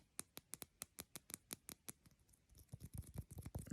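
Quick, evenly spaced taps of a fingertip and fingernail, with rings on the hand, sharp and close, shifting into a faster, denser tapping run.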